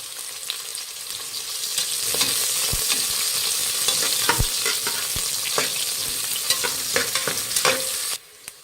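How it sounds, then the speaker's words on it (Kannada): Sliced onions sizzle and fry in a pan with oil and fennel seeds for a vegetable bath, a steady bright crackle stirred with scattered spatula scrapes and taps, close and continuous until it abruptly drops near the end. "ಈರುಳ್ಳಿನ ಗೋಲ್ಡನ್ ಬ್ರೌನ್ ಬರೋವರೆಗೂ ಫ್ರೈ ಮಾಡಿ"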